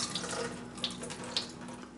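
Liquid pours steadily from canned potatoes as they are drained, a soft continuous trickle with a couple of faint clinks, close and quiet.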